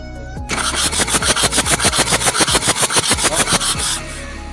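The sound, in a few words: diesel engine cranking with the starter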